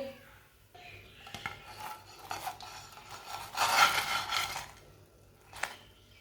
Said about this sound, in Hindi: इसे प्लेट में डाल लेंगे।